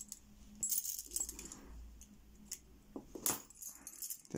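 Old lever keys, including Danish lever keys, jangle and clink as they are handled and pulled loose, a few metallic rattles and taps close by, with no talking.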